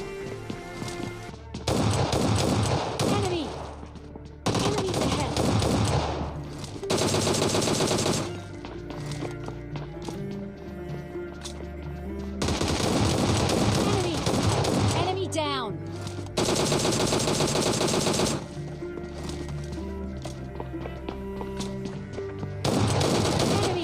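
Shotgun fire in PUBG Mobile Lite comes in loud, heavy blasts of gunfire, clustered in bursts with brief quieter gaps between them.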